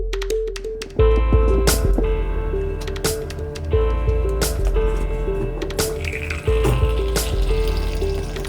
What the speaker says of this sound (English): we're gonna brew some of this up at the French press